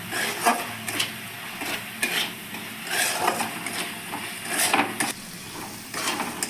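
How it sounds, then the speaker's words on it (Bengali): Cauliflower curry spices with coriander, turmeric and salt being stir-fried in a pan: repeated scraping stir strokes over a soft sizzle, close and steady, no talk. "অল্প একটু ধনে গুঁড়ো হলুদ নুন দিয়ে দিচ্ছি দিয়ে আবারও ভালো করে আমি কষিয়ে নেব"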